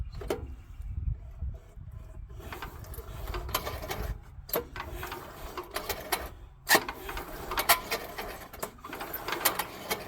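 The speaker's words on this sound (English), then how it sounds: "we'll turn this over slow, see if that maybe work them rings loose" The engine of a Troy-Bilt Horse tiller, with rust suspected on the valves and rings, is turned over slowly by hand, giving a steady, close mechanical clicking and ratcheting with irregular louder knocks over a low rumble.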